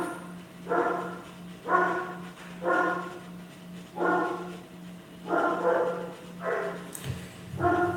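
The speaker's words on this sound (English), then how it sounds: "I cannot meditate because dog is barking" A dog barks repeatedly in short bursts at a steady rhythm, fairly close and loud, with a low steady hum running underneath.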